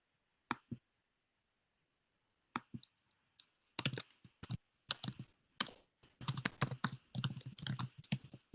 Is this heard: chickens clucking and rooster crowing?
no